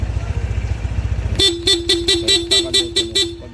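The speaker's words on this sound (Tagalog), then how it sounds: "So sa busina ni Sir nilagay po natin Pia horn." Pia horn fitted to a Honda PCX160 scooter blasts in a rapid string of about nine short, loud, high honks, following a few seconds of low, steady engine idle.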